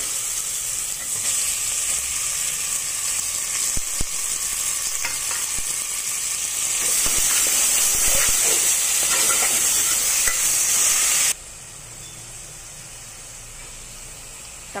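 Tomatoes go into a pan of frying mutton dalcha and get stirred, bringing a steady loud sizzle with scraping stir clicks that swells midway and then drops to a quieter hiss.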